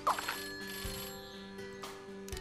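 A telephone ringing in Scribblenauts Unlimited, heard as a steady electronic ringtone with sustained tones and soft chimes, played quietly under light game sounds.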